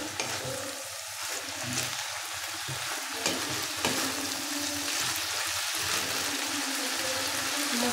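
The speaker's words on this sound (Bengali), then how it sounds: "এটাকে একটু ভালো করে নাড়িয়ে একটু ভাজা ভাজা করে নিতে হবে" Boiled banana flower and potatoes fry in a pan as they are stirred, with a continuous close sizzle and the rough, uneven scrape of stirring throughout.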